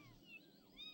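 A cat meows in the game Amanda the Adventurer 2, two short, faint, rising cries close by, alone without any talk.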